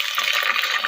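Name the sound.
water being poured into pan for pulao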